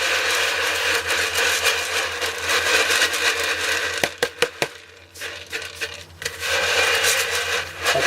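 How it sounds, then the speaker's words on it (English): Pyrotechnic stars tumbling on lead shot inside a rolling bucket, a steady grainy churning rasp that holds for several seconds, breaks into a few sharp clacks, dips, then resumes its continuous rolling rush. "I will just take my stars and sprinkle them into that bucket and start rolling"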